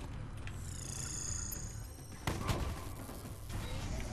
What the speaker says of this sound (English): Yes, I know, they're shooting at me.